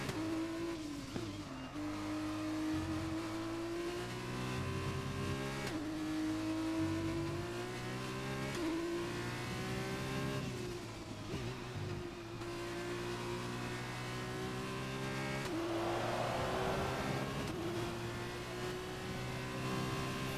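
Formula 1 race car engine in a video game round at Singapore, a steady loud high-pitched whine with harmonic bands that rise and dip through repeated gear shifts, plus a brief burst of tire noise near the end, with no voices.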